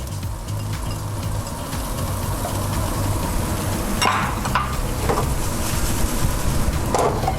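Onions frying in a pan as the base for Sicilian spaghetti ca muddica, a steady close sizzle and crackle throughout, with a few sharper clinks of a utensil against the pan partway through.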